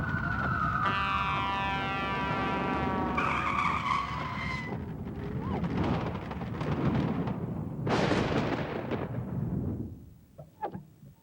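Thunder crashes as a sound effect in a weather forecast commercial. A loud, broad rumble builds and then fades over several seconds, after bright electronic tones at the start, with a few fainter cracks near the end.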